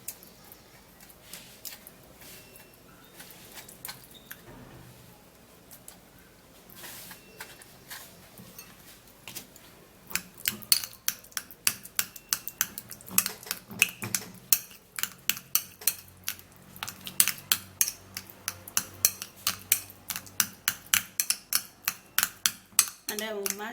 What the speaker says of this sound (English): So I'm going to be scraping the avocado into this bowl.